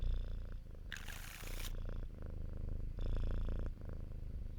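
A cat lying in a cat bed on someone's lap purrs in a steady, low rumble close to the microphone, with a couple of brief rustling bursts over it.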